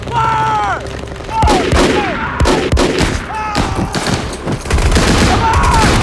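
Heavy gunfire rattles through a tank battle scene in a war film, dense volleys and booms layered under shouted commands and a voice crying out.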